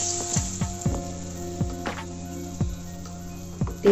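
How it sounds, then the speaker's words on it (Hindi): Eggplant slices wrapped in lentil batter sizzle in hot oil for pakodi, a steady crackling fry broken by a few louder pops and clinks of a utensil, heard up close with no talk. "बैंगन में दाल को बहुत अच्छे से लपेट के इस तरह से गरम तेल में"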